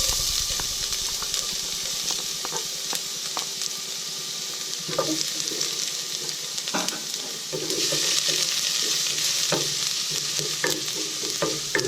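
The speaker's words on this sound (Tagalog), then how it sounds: "Pinainit na po natin ang ating mantika at ilalagay po natin ang ating bawang." Garlic sautéing in hot cooking oil makes a continuous close sizzle and hiss, broken up by scraping stir strokes. The sizzle swells louder toward the second half.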